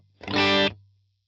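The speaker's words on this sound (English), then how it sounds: "I have a subtle compression on the entire time, just to give it a little extra sustain." An electric guitar with subtle compression for extra sustain plays a single sustained chord, bright and full for about half a second before decaying smoothly into a low lingering tail.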